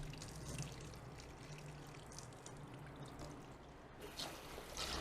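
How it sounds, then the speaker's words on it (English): Water poured over wild rice being rinsed in a kitchen, a steady splashing pour with trickling, continuous and close throughout. "So you just add some water, turn it around, agitate it a bit, and it gets murky."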